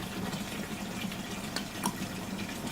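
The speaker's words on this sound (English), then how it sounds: "So it's filling up with water." A tank fills with water pushed by an air compressor in a makeshift dorm washer setup, giving a steady rushing, gurgling flow with a low hum underneath and a few brief clicks.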